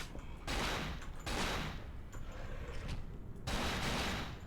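Rapid gunfire bursts from the survival-horror video game Cold Fear, loud and dense, with several sustained volleys separated by brief lulls, heard alone without talking.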